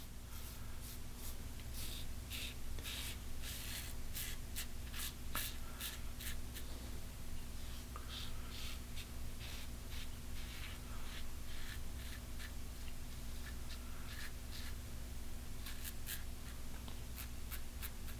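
A Merkur 34G gold safety razor shaving across the grain on a face makes faint, rapid scratchy strokes in repeated bursts over a low steady hum, with no talking.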